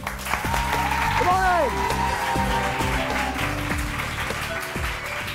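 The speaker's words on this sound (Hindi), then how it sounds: "मुझे आपकी तालियां चाहिए" A stage-show audience gives loud, sustained applause as a performer is called up, the clapping washing steadily under a tonal voice or music carrying over it.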